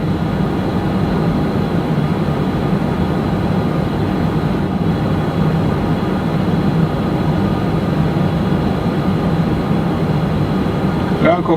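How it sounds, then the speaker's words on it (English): Aircraft engine number 1 spools up while being started on external pneumatic power, a loud, steady, broadband roar and whine that holds constant throughout without pause. "Starting engine number 1."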